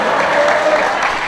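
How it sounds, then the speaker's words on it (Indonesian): Applause inside a mosque during an Eid al-Adha sermon in Cirebon, with a crowd clapping in a dense, steady wash of sound that is loud and continuous. "Baru saya kali ini melihat di masjid ada tepuk tangan."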